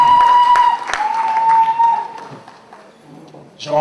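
A church congregation applauds and cheers in praise, a loud burst of clapping that fades over a few seconds as people settle back into their places.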